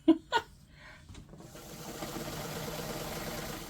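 A sewing machine runs a straight stitch to close the end of a cushion, starting after a couple of soft clicks and settling into a steady, quiet mechanical whir, close by with no talking.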